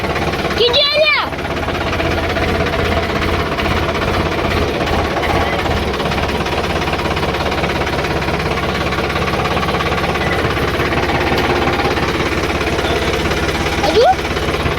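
A tractor stuck in the ground runs its engine in a steady, loud, low chugging drone that holds for the whole stretch, with a brief vocal sound near the start and another near the end.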